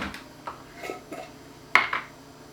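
A spoon stirs a pot of gravy made from beef bones, giving several light clinks and scrapes against metal, one sharper ring near the end, close by and moderately loud.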